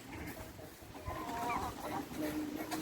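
Village hens cluck softly and continuously nearby, a low, steady chatter of fowl with occasional sharper calls, fairly quiet overall and with no clear talking.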